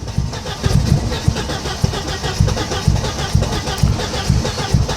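A Mercedes 190E barn find cranks over and over with a rhythmic starter chug, the engine catching briefly and nearly firing, heard loud and close.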